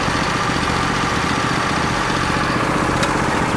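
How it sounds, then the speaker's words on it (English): Husqvarna lawn tractor engine idling smoothly, a close, steady mid-pitched putter that holds even throughout with no voices. "I just love the way this thing idles. It idles perfect."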